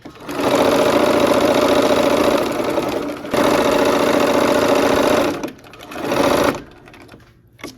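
A sewing machine stitches the final seam of a quilt block, running in a long steady burst, pausing briefly, then resuming at full speed before slowing through a couple of shorter runs and stopping.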